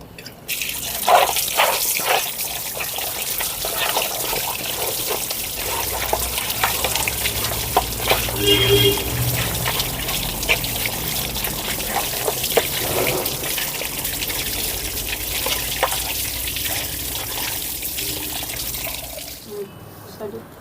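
Tap water runs and splashes in a sink while a kilo of mutton is washed, a continuous close gush broken by handling clatter and drips, with no speech over it.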